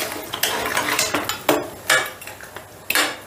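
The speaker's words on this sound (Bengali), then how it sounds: "এবারে গ্যাসের আঁচটা বাড়িয়ে দিয়ে আমি সমস্তটা বেশ ভালো করে মিশিয়ে দিচ্ছি।" A spoon scrapes and clatters in a pan as a soybean and puffed rice curry is stirred over raised gas heat. Loud, close, irregular strokes sound for about three seconds, with no speech.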